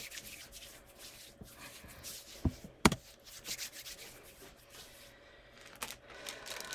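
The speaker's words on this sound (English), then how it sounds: "Next, I am going to wash my hands." Hands being washed and rubbed together at a sink during a practice IV administration, a soft steady rubbing close by with a couple of sharp knocks midway.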